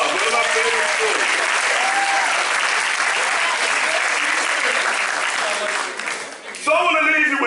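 A graduation crowd gives a loud, sustained round of applause that dips briefly near the end before surging again, with a voice speaking over it.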